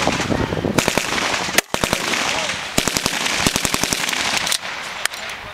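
Bursts of sharp cracking reports ring out on a firing range during M203 grenade launcher practice, close, loud repeated bangs in rapid clusters with short gaps between them.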